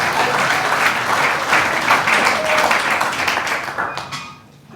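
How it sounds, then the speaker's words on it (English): A political gathering of Taraba PDP delegates breaks into sustained applause, dense clapping from a large audience that holds steady and then tapers off toward the end. "You should clap more than that because you are seeing him live."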